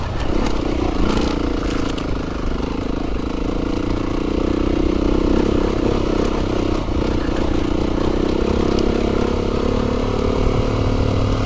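Beta 390 RR trail motorcycle climbing a green lane on the Surrey byways, its engine droning steadily and close, with scrapes and clatters of rocks and ground underneath.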